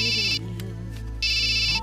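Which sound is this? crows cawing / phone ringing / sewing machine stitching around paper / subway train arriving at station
phone ringing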